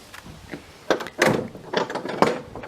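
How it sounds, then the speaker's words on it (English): Several wooden thumps and scraping knocks as stable doors are pushed closed, irregular and fairly close, with a brief rattle between. "Let's shut the stable doors"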